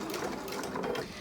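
A sewing machine runs steadily at close range, stitching binding onto a potholder with a continuous rapid mechanical whir and no pauses.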